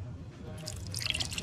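A little water poured into a cooking pot, a brief trickle of splashes and drips building over about a second, close and fairly quiet.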